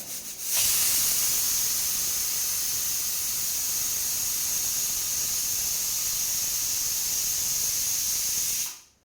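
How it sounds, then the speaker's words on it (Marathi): A pressure cooker of chana dal and potato curry vents steam, a loud close hissing whistle that starts abruptly, holds steady for about eight seconds, then cuts off. "इथे कुकरच्या दोन शिट्ट्या काढून घ्यायच्या आहेत"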